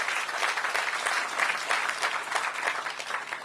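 A crowd of attendees at a ribbon-cutting for a Ward 8 entertainment and sports arena applauds, dense continuous clapping at steady volume with a few louder individual claps, no talking.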